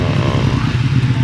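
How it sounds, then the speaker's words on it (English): A small 125 cc motorcycle, such as a Brixton or Fantic Caballero, labours up a steep climb with a loud, steady, close engine drone throughout. "That's a fairly steep climb for those small motorcycles."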